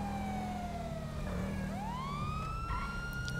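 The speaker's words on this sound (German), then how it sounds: "Ich habe eine Sirene an und das interessiert kein Schwein." A police car siren in GTA 5 wails in rising and falling sweeps over a constant engine drone, loud and close, with no talk.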